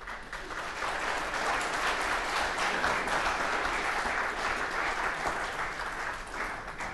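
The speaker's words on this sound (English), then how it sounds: "Round of applause." Steady applause from a forum audience of candidates and guests fills the room, a continuous even clatter of many hands held at a constant level with no talking.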